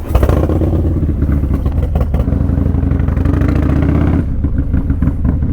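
A motorcycle fitted with an SNS 590 race cam idles and revs loudly up close, its lumpy, choppy exhaust pulsing steadily before dropping to a lower rumble near the end.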